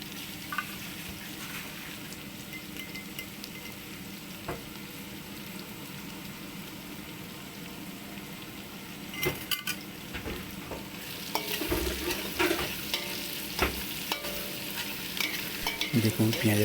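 Onions sizzle in a pan while being stirred, a low steady crackle that grows busier and louder with scraping strokes in the second half.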